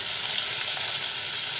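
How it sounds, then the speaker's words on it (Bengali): Sprouted chickpeas and grated coconut fry in a pan over low heat for kochu data shak, giving a steady, close, even sizzle with no break. "অঙ্কুরিত ছোলা আর নারকেলটা একটু এর মধ্যে ওই ভেজে নেব"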